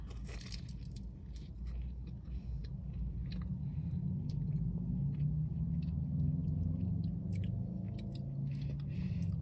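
Someone bites into a crunchy butter croissant and keeps chewing, with faint crackly crunches close to the mic over a constant low rumble that sounds like the inside of a car.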